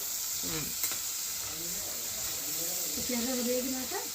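Onions and green chillies fry in a pan with a constant hissing sizzle, while a voice talks intermittently over it.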